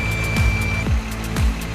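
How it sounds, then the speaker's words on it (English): A Brigade ultrasonic proximity sensor's in-cab warning buzzer gives one steady, fairly loud tone lasting under a second, while vehicles rumble past with low passing swooshes. "The monitor displays proximity and the buzzer sounds for movement."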